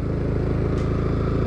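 A Honda Winner X motorcycle engine runs steadily in fifth gear with the throttle held, a loud, even low hum with a regular pulsing beat close by, no talk over it.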